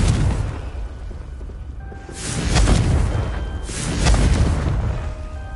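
A Confringo explosive spell in a Harry Potter video game, two heavy, rumbling booms a couple of seconds apart, each swelling and fading over a loud, dense roar.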